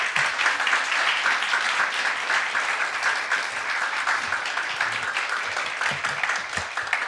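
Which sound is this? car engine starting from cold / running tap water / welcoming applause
welcoming applause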